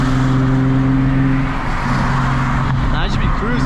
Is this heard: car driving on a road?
yes